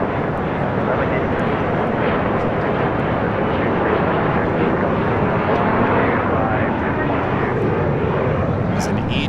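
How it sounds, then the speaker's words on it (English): A United Express E-jet airliner going around at LAX makes a sustained, loud jet-engine roar, dense and unbroken throughout, with faint radio chatter mixed in. "There's an E-jet, looks like a United Express E-jet going around"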